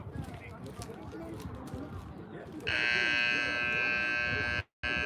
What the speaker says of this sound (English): And there's the buzzer for the end of pregame.